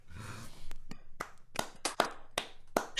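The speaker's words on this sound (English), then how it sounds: "A Zoom round of applause." Scattered, sparse claps from a few participants on a Zoom call during a guitar and singing session, separate hand claps spaced out over a few seconds with faint breathy noise and low talk early on.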